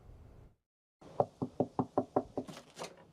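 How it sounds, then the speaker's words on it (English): Sheriff's deputies knock on residents' doors in Eaton Canyon, Altadena. About eight firm, evenly spaced raps sound at close range on a door, followed by faint noise. "Sheriff's deputies from the Altadena station out in full force, door-knocking residents in Eaton Canyon."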